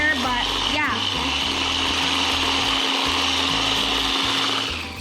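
A loud blender whirs continuously, its motor pitch wavering as it churns thick focaccia bread dough, with a brief voice near the start.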